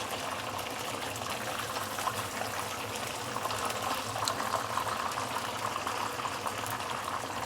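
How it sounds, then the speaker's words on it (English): Fish deep-frying in hot oil for a nyonya chili garam dish, giving a dense, steady bubbling sizzle close by that holds even the whole time, with no talk. "I do prefer to over fry my fish all the time, or most of the time, just to get the char I prefer"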